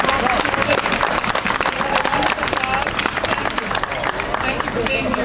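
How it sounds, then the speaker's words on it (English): A crowd applauds at a Northampton Veterans Day parade gathering, dense continuous clapping throughout, close and loud, with murmured crowd noise beneath. "Can we have another round of applause for Carly Listic, who stepped in and"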